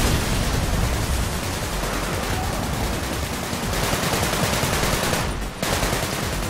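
Dense, continuous automatic gunfire from the open-world shooter Sunset Overdrive, a loud unbroken rattle of rapid shots that stays steady for several seconds with only a brief dip near the end.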